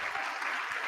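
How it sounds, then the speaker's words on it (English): A crowd in the House chamber breaks into sustained applause and cheering during the Speaker of the House vote, with dense clapping throughout. "you see the crowd erupting there"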